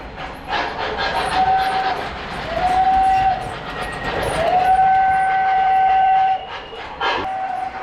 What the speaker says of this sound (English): Now we got two Banshee whistles going in parallel.